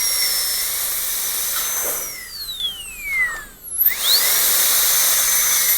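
A high-speed dental drill whines continuously while cutting a Class II cavity preparation, its shrill pitch sliding down and back up as it bears into the tooth and eases off, close and steady without talking.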